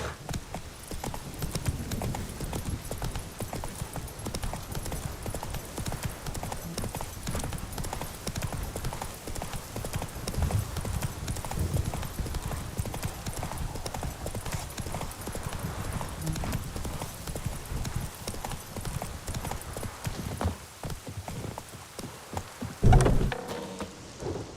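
A horse gallops in The Witcher 3 video game, its hooves beating in a steady, close clip-clop rhythm for the whole stretch over a rain-like wash, with a short louder thud near the end.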